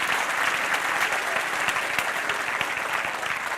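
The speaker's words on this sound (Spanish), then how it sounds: "Démosle un aplauso al Señor." A church congregation applauds during a Spanish-language sermon, a dense, continuous wash of many hands clapping at full volume for the whole stretch, with no speech on top.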